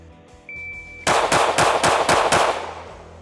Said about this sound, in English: Next up, CR920P. Again, I'm gonna shoot this just almost identically as the Hellcat RDP.